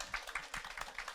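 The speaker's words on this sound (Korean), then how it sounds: "우리 선생님들 이렇게 좀 세게 좀 박수 좀." Church congregation clapping at a Sunday service, a short burst of uneven hand claps, fairly faint and somewhat distant, with no voices over it.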